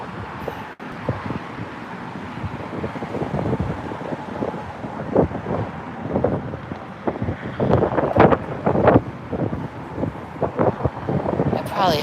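Wind rumbles and buffets against the microphone outdoors near a tire shop. The low, gusty noise is continuous, and a person talks over it intermittently.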